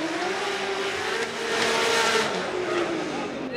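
A drift car spinning out at Formula Drift Long Beach, loud engine roar with a long tire squeal sweeping across the clip, crowd and ambient noise behind, with talking mixed in.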